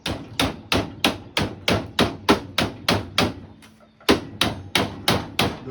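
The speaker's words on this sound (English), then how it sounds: "and then hammer it in place." Steady, evenly spaced metallic hammer blows ring out as sheet metal is bent over angle iron, about two per second, with one brief pause before the striking resumes; loud and close.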